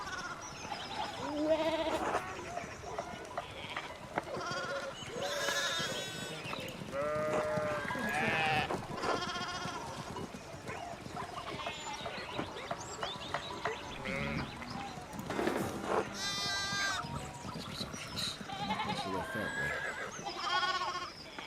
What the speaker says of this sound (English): One of the fence rails fell and the sheep started hopping it.